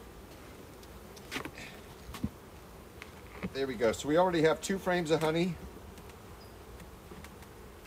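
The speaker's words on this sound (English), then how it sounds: "Now I'm going to put these bees back inside." Honey bees buzz around an opened hive during an apiary inspection and honey harvest, a soft continuous hum with occasional louder passes near the microphone, while a person talks over the middle stretch.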